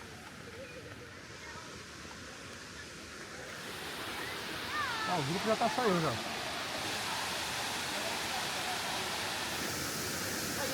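Broad, steady rush of a waterfall pouring down at a site in Portugal, a constant loud wash of falling water throughout, with a person speaking briefly over it midway.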